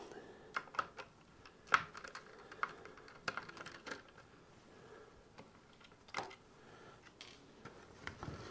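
Small metal clicks and light scraping as a screwdriver backs out the screws of a jack socket plate on a Telecaster guitar body, a scattered series of sharp close ticks with quiet gaps between them.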